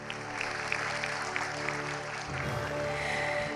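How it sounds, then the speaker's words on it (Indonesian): Audience applause at a national political talk show on new versus old parties, a broad, moderately distant clapping wash over a steady tonal hum, shifting slightly partway through. "Tepuk tangan yang meriah."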